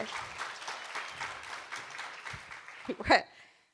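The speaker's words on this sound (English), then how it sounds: "please again join me in giving them a warm round of applause for joining us in this conversation today" A conference audience gives a warm round of applause after a panel conversation on influencer marketing, steady clapping for about three seconds that ends with a brief louder burst before fading.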